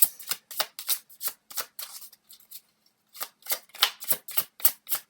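Tarot cards are shuffled and drawn close at hand in quick, crisp riffles and flicks, with a brief lull midway before the fast snapping resumes, no speech.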